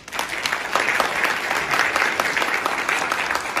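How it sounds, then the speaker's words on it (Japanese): Loud, sustained applause from a seated audience at an award ceremony, a thick continuous roar of many hands clapping close and evenly throughout. "皆様盛大な拍手をお願いいたします。"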